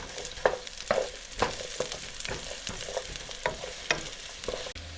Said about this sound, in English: Time to put up the chopped up garlic. Saute for another minute or so.